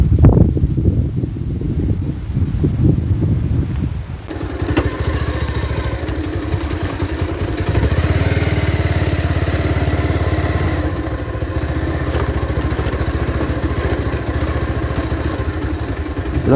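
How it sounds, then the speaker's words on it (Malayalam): Strong wind roars continuously at a dangerous spot, loud and close against the microphone, mixed with a low engine-like rumble and buffeting. "കാറ്റടിച്ചു തുടങ്ങി കേട്ടോ"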